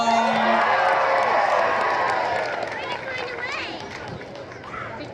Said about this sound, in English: Give a big old cheer to Captain Minnie!